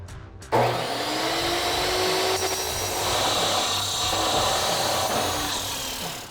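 A power saw cuts an MBRP Armor Pro single exhaust pipe for a gas Chevrolet Silverado 2500, a loud continuous grinding whine that starts abruptly and holds steady throughout.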